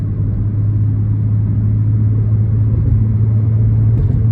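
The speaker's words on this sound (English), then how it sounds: "All of these vehicles are passing by me" Steady, close traffic rumble from cars and other vehicles passing on a road in New York City, a continuous low drone of engines and tires with no talking.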